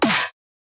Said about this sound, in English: I just took the snare and I saturated it like crazy